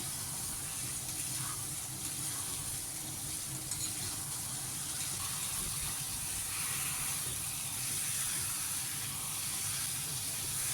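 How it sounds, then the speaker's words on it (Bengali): Chicken kosha frying in a pan with spiced masala, a steady sizzle and hiss running continuously at moderate loudness, no one speaking. "চিকেনটা দিয়ে আমি আবার ভালো করে কষিয়ে নেব।"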